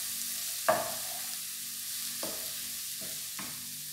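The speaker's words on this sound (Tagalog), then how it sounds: "Lagay na natin guys ang ating chopped onions. Yan, gisa-gisa lang siya." Chopped onions sautéing in olive oil over low heat, a soft continuous sizzle broken by three or four scraping stirs of a utensil against the pan.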